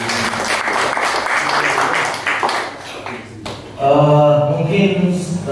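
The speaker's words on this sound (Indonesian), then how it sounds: "saya minta tepuk tangan untuk kita semuanya" An audience at a talent-hunting audition event in Manggarai, Indonesia, claps in a dense burst of applause for about three seconds, then it fades as louder voices and sound take over.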